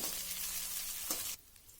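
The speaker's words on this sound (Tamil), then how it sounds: "இந்த பூண்டு கருவேப்பிலை வெங்காயம் மிளகாய் எல்லாமே எண்ணெயிலேயே நல்லா வணங்கி வரட்டுங்க" Garlic, curry leaves, onion and chili sizzle steadily in hot oil for a tomato pepper rasam, a close broadband frying hiss that drops off sharply near the end.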